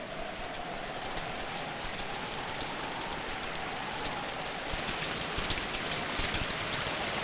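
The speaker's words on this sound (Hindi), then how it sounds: "लेकिन बरसात बढ़ती जा रही" Heavy rain pouring down steadily outdoors near a temple, a dense continuous hiss of drops hitting surfaces with no pause and no voices.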